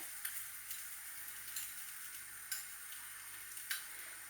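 A stuffed paratha fries quietly in butter on a pan, a faint, even sizzle with a handful of light scraping ticks spaced out every second or so, and no talk.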